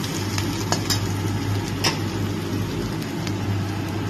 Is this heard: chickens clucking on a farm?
no